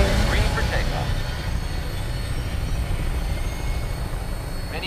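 A steady, roaring drone of an aircraft lifting off in the video game Fallout 4 holds at an even level throughout, with a voice faintly present over the engine noise.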